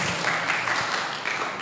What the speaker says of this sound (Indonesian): kasih tepuk tangan buat tanggapannya